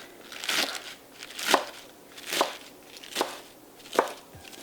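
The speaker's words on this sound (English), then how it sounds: "take out your lettuce, wash it and dry it, and then just cut it" A knife cuts through lettuce in five evenly spaced crisp chops, each a crunchy crackling stroke about a second apart, close and clear with no talk.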